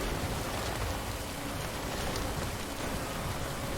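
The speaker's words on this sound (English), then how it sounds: "The rain's pretty heavy though." Heavy rain in the video game Death Stranding pours as a dense, constant hiss, loud and unbroken throughout, with no voices over it.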